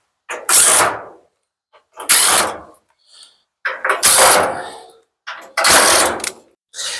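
A power screwdriver removes screws from the front panel of a Samsung dryer, running in four loud, close bursts of whirring and ratcheting with brief silences between them.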